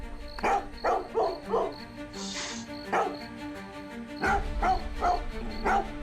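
A dog barks repeatedly in short clusters, loud and close, with a brief pause before another run of sharp barks.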